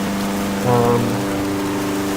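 Rain hisses steadily in the F1 Challenge racing game during a 1958 race, blending with a droning race car engine tone and a brief louder swell of engine noise.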